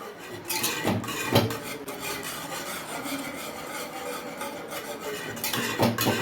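A spoon keeps scraping and stirring sago pongal in a pot, a continuous close rasping rub with a few sharper knocks, no voices.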